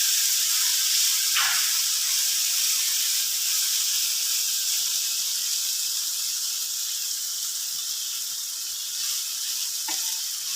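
Mustard seeds and a pinch of cumin sizzle steadily in hot oil for a jackfruit-seed masala thoran, a dense bright hiss with a couple of brief sharper crackles, close and continuous with no talking.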